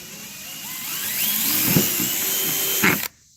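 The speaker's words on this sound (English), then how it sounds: "Next, we have to take our can and put a hole with that same size drill" A power drill with a 1/8 drill bit whines steadily as it bores a hole through a metal can, loud and close, ending in an abrupt cutoff.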